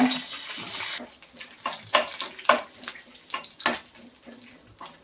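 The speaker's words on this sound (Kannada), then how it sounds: "ಚಕ್ಕೆ, ಲವಂಗ, ಕರಿಮೆಣಸು ಎಲ್ಲ ಹಾಕಿ ಅದನ್ನು ಹಾಕಬೇಕು ಎಣ್ಣೆಗೆ." Whole cinnamon, cloves and black peppercorns dropped into a few spoons of hot oil for chana masala, giving a sharp hiss at first that settles into scattered crackles and pops, close and fairly quiet, with no talking.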